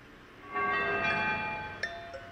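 Bell tones ring out in a horror video game, a bright metallic strike with a lingering shimmer swelling after a quiet start, then a couple of sharper dings near the end.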